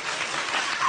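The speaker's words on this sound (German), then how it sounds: "Applaus!" Studio audience applause on a German television interview show, a short, dense wash of clapping.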